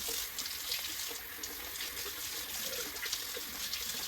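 Water runs steadily from a tap into a sink as a vessel is washed with soap and a dish rag, a continuous close splashing wash with no talk.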